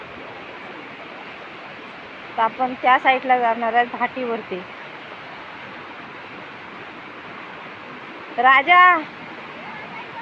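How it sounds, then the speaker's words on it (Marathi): Water flowing in a forest stream, a steady broadband rush running under the whole stretch while someone speaks nearby in two short bursts. "पाणी बघा किती वाहतवली बघा"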